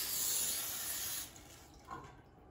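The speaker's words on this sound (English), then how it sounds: "I'm also going to spray the bottom and side with a non-stick cooking spray" Non-stick cooking spray hisses from an aerosol can into a baking pan, a steady close spray lasting about a second before fading, then a brief softer puff, with no talking.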